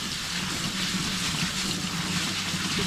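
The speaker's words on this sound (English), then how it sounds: "I have 2 cups of rice in my sieve, and then I'm going to rinse it" Rice rinsed under cold running water in a sieve, a steady, fairly loud wash of water that stays constant throughout with no talking.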